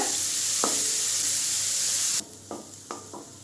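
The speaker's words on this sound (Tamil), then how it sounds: "1 கப் முள்ளங்கியை சின்ன சின்னதாக கட் பண்ணி சேர்த்துக்கலாம். முள்ளங்கியை நல்லா பச்சை வாசனை போகிற வரைக்கும் நல்லா வதக்கிக்கோங்க." Chopped radish sautéing in a pan: a loud, close, continuous sizzle for about two seconds that suddenly drops away, followed by a few soft scrapes of a spatula, no talking.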